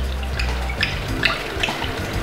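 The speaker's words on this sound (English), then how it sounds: "And I'm going to pour in Sauvignon Blanc. I'm going to pour in 1 cup of that." Sauvignon Blanc wine is poured into a pan, a steady close liquid splash and trickle with a low background hum throughout.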